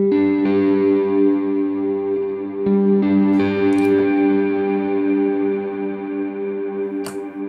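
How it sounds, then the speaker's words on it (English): A GFI Specular Reverb V3 holds a sustained, infinite reverb wash, with steady low drone tones layered under gentle plucked notes and a few faint clicks, continuous and moderately loud with no talking. "It's just the overall volume of that sustained infinite sound."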